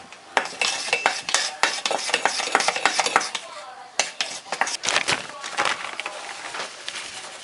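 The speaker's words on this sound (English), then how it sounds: "I'm just stirring it to try and get all the clumps of powdered sugar out" A spoon stirs a powdered sugar mixture in a pot over low heat, giving close, busy metallic clinks and scrapes in quick irregular bursts with a brief pause midway.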